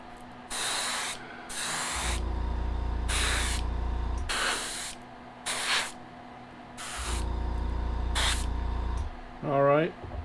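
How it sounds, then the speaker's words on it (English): An airbrush set on high sprays paint onto a lipless vibe crankbait lure in several sharp hissing bursts of a second or two each, separated by pauses, with a louder burst near the end. "I use my airbrush on high."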